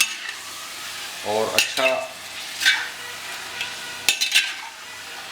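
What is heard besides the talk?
chicken masala frying in ghee, stirred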